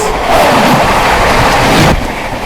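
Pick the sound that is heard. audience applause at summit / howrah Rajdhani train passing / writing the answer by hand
howrah Rajdhani train passing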